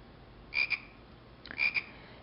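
A large old frog croaks by a river, two short double-pulsed calls about a second apart over a quiet background.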